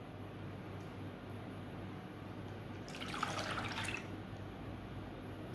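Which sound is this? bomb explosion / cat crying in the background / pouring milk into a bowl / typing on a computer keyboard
pouring milk into a bowl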